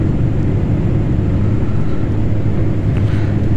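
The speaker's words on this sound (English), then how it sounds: "we were airborne from the super short runway at Wilson heading to Mombasa on the Fokker 50" Cabin noise inside a Fokker 50 turboprop airliner in flight from Nairobi's Wilson airport to Mombasa: a loud, steady, low droning roar with a continuous broadband hiss, unbroken throughout and with no talking.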